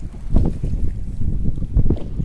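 Strong wind at sea roars across a fishing boat out for carp, buffeting the microphone in loud, surging gusts, with the boat's low rumble and water beneath.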